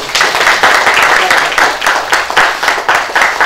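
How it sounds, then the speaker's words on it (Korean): Loud applause from a crowd at a political party meeting, sharp rhythmic clapping rising and falling in waves, close by and continuous. "자, 박수로서 환영해 주시죠."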